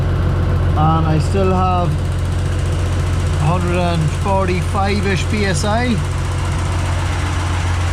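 A John Deere 3140 tractor engine runs steadily at high idle, a constant low hum throughout while someone talks over it.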